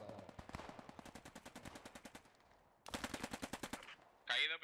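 Bren machine gun fire in the game Post Scriptum: a long, rapid, evenly spaced burst of shots, a short pause, then a second loud burst, ending with a brief sharp burst of noise.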